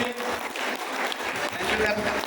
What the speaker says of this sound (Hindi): एक बार जबरदस्त ताली हो जाए सभी की।